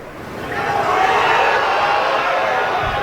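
Golf crowd at the PGA Championship cheering a Tiger Woods shot, a loud sustained roar of many voices that swells after a half-second and holds steady to the end.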